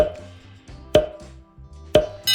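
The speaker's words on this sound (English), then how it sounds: "what you're going to do is you're going to cut the ends off of the zucchini" Sharp knife slicing the ends off a zucchini on a cutting board, giving two crisp, separate chops against the board with quiet pauses between them, close and clear.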